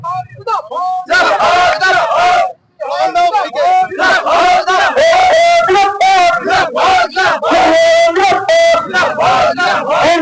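A crowd at a political gathering joining a CPM party event chants slogans in loud, rhythmic unison. A lead voice calls out and many voices answer back repeatedly, close and strong, with one brief pause early on.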